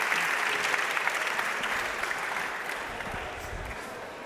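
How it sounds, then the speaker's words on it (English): Audience applause for conference panelists at the end of a collaboration session, a dense, steady wash of many hands clapping that stays loud and gradually eases slightly, with no talk over it. "I want to give a huge round of applause for my fantastic panelists"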